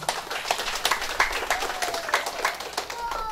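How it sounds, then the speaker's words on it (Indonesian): Applause from a crowd at a church groundbreaking ceremony in Sorong, Papua: a steady patter of clapping, moderately loud, runs throughout with sharper claps standing out. "Kami minta tepuk tangannya sekali lagi itu."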